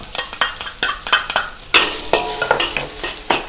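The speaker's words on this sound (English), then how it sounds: "Stir fry until aromatic." Chopped spring onion whites, ginger and garlic stir frying in a wok, with quick rhythmic scraping and tossing strokes over a bright sizzle, close and loud, with no voices.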